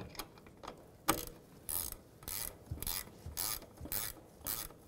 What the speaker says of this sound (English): Snug down the top nut using a 14mm wrench or socket.